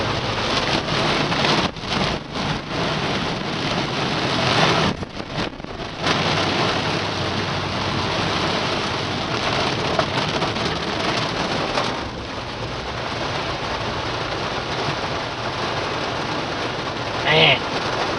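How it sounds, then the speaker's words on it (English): Heavy rain pours steadily over farm fields of corn and wheat in a dense, loud, continuous hiss, with brief gusty surges and someone speaking intermittently over it. "Like I said, it's only been raining here 15 minutes."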